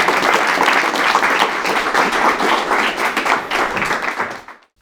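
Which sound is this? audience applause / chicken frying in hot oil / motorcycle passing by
audience applause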